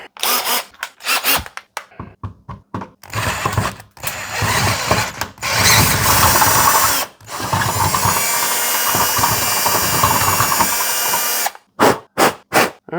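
A power drill with a 9/16 bit bores a hole for a front door peephole, starting with short triggered bursts, then long sustained whirring runs with grinding, and ending in several quick stop-start pulses.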